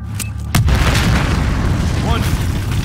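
A loud, close explosion in Battlefield 4 bursts in with a sharp onset and rolls on as a sustained low rumble, with speech-like voices present alongside it.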